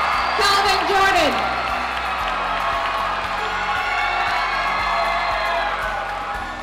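A crowd at a high school graduation ceremony cheers and whoops continuously for a graduate crossing the stage, a steady, fairly loud roar with a few shouts rising early on.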